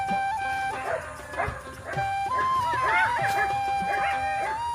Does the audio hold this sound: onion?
no